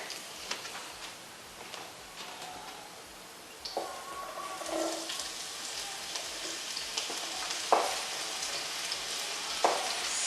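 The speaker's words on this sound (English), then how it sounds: "you just want it to sizzle a little bit so you know that it's cooking instantly and it's not sitting in oil" Shallots sizzling in hot oil in a pan, a faint, steady crackle and hiss with scattered pops and light clinks, no talk over it.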